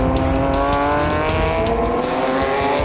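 Porsche GT3 Cup race cars racing at the Losail International Circuit: a loud, sustained high-revving engine roar with rapid gear changes and shifting pitch, close and continuous throughout, no talk.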